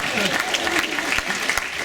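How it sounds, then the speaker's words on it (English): Wedding guests applaud for the bride Leesha during a best man speech, a dense burst of clapping filling the room for about two seconds, with some crowd noise mixed in. "Round of applause for Leesha."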